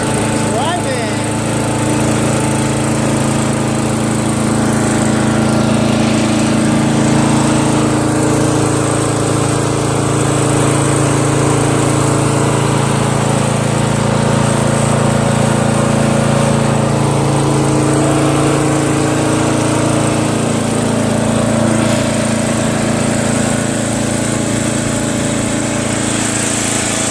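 A Murray 40-inch widebody lawn tractor with a 12.5 HP Briggs flathead engine drives along with a loud, constant engine drone that stays close the whole time, with a voice faintly underneath.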